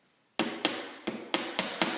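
A hammer taps a Hoffmann dovetail key into the glued joint of a wooden picture strainer frame: five sharp, close strikes at an uneven pace, each followed by a short ringing decay.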